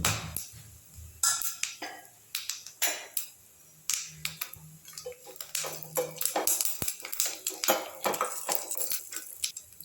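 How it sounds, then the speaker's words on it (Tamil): Rapid crackling and popping, irregular and close: fennel seeds, cinnamon and cloves spluttering in hot oil for a potato kurma, with occasional clinks of a utensil. "சோம்பு, பட்டை, கிராம்புலாம் நல்லா பொரிஞ்சிருச்சு."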